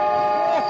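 A passing train sounds its horn in a brief, sustained, steady tone that cuts off abruptly, heard alone and fairly loud.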